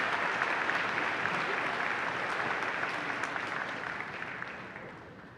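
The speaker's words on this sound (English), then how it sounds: "let's give them all one more round of applause" Sustained applause from a graduation ceremony audience honoring retiring staff, a dense, steady wash of clapping that stays strong throughout and eases slightly toward the end.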